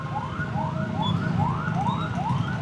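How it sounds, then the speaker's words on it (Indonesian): Ambulance siren in Jakarta street traffic, rapid rising yelping sweeps repeating about twice a second, loud and fairly close over a low hum of engines and road noise. "Nih kita coba ikutin belakang ambulan ya"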